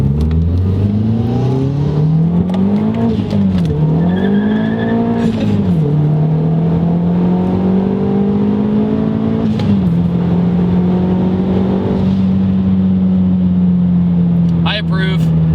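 A 2009 MazdaSpeed3 engine roars loudly up close, pitch climbing then dropping with each gear change from first to second before holding a steady high drone.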